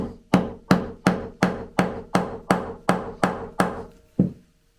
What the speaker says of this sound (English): now I'm going to just hammer the rivet down into the button